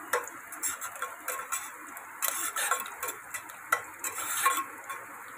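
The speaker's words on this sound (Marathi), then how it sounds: "आता ह्याच्यात आपण हे बघा कढीपत्ता टाकायचा." Curry leaves dropped into a hot pan for Maharashtrian prawn curry, crackling and sizzling with quick ticking spatters and a few stirring scrapes, close and moderately loud, no talking.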